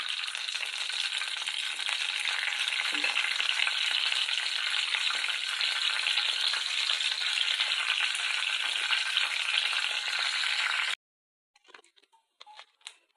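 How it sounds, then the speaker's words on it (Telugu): Loud, steady crackling sizzle of curry leaves and spice seeds frying in hot oil, continuous for several seconds before cutting off to a few faint clicks. "కర్రీ లీవ్స్, పోపు మసాలా సీడ్స్ ఈ విధంగా ఆయిల్లో ఫ్రై అయ్యాయండి"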